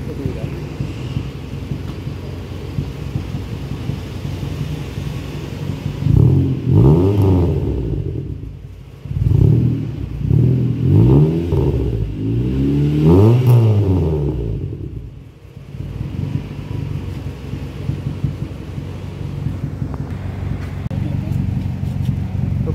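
A car engine runs after a repair, idling with a low steady rumble and then revving up and down in several swelling bursts before settling back to idle.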